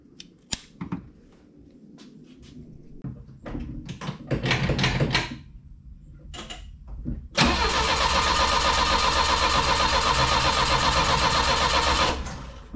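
A car engine with a homemade ignition condenser, freshly fitted rotor and distributor cap cranks in short bursts amid clatter, then catches and roars into a loud, steady run close by that keeps going for several seconds before cutting off.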